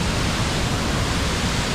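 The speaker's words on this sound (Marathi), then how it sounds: "पहा कसं धबधबा येतात. खूप पाणी वाढलंय पाऊस पडल्यामुळे." A waterfall swollen by heavy rain roars as a loud, dense, unbroken rush of water, steady and close, with no voices.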